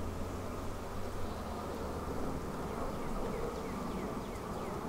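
Honey bees buzz in a dense, continuous drone around an open Flow Hive, a steady close swarm sound with no voices.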